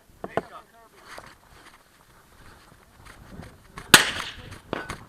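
Pistol shots at a shooting competition crack out in a few sharp, scattered reports, one especially loud and close near the end, while people talk in the background between the shots.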